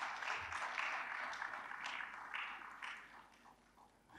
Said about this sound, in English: Please give him a clap before I continue.